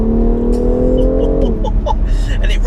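A 510 bhp BMW X3M Competition's engine climbs steadily under acceleration, then its note drops sharply at a gear change, followed by brief clicks and pops, loud and close from inside the car.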